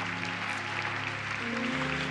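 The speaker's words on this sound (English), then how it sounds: "Can you give a hand clap for that?" Steady applause from a church congregation at an Easter Sunday service, a dense wash of many hands clapping at even loudness throughout.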